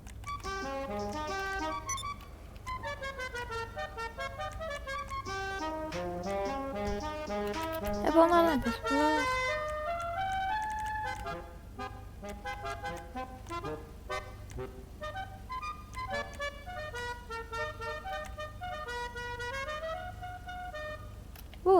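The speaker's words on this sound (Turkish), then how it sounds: "Korna." Car horns honk repeatedly in GTA 5 Online, in short toots and longer blasts, layered with bright synthetic tones and a constant low engine drone.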